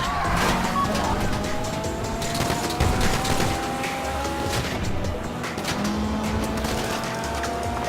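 Heist car driven in GTA 5 during a bank heist mission, with a steady engine drone and tire noise, scattered sharp bangs like gunfire, and talk over the top.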